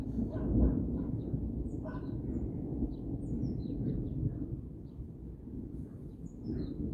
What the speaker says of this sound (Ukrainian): Піде дощик і гримить.